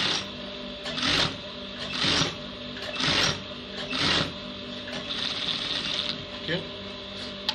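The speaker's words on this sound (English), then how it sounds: "I want to sew this other part to this other one here as shown." Sewing machine stitching trouser pieces together in quick bursts of mechanical whirring, several short runs separated by pauses, close but fairly quiet, with faint background noise.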